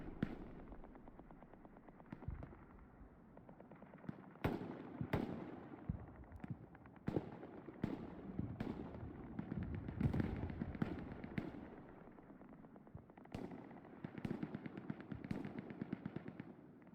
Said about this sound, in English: he's just sending a rocket straight in